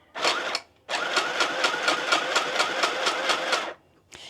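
A small, inexpensive mini sewing machine stitches fabric with a rapid, rattling mechanical buzz: a short burst, a brief pause, then a longer steady run of rhythmic needle clatter before it stops.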